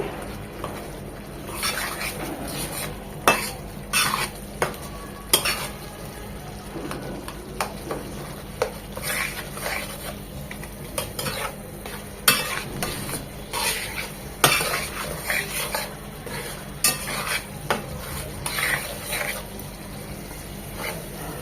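Tomatoes with spices cooking down in a pan for a sour boal fish curry, a soft continuous sizzle under repeated scraping strokes of a spatula against the pan, steady and close.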